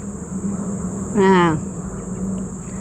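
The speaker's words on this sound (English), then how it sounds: "The crickets have come alive, and it's so soothing to hear those sounds in the background" Crickets chirp in a steady, high-pitched drone throughout, with a brief tonal call rising over them midway.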